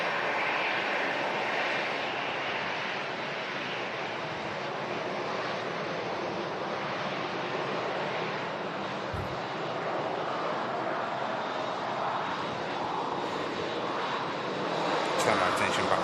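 An Emirates passenger jet at Manchester Airport, its engines producing a broad, steady roar that holds at fairly even loudness throughout, with voices talking faintly beneath it.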